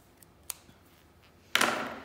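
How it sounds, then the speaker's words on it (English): Scissors snip through knitting yarn at a circular knitting machine, giving a couple of small clicks followed by a sharper, louder cutting rasp near the end, close and alone. "I'm going to cut off my working yarn."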